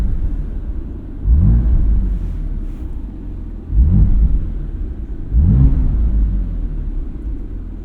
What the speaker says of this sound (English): maybe you can hear the exhaust note a bit from inside the car